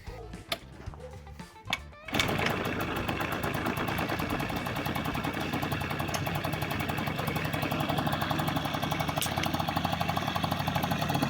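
Honda Giorno scooter engine cold-starting: a few sharp cranking bursts, then the cold engine catches and settles into a steady, rapid idling chatter that continues to the end.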